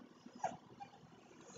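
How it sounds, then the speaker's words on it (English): A puppy whining softly in the background, one brief high whimper and a fainter second one over low room noise. "Y'all hear baby girl dog whining in the background?"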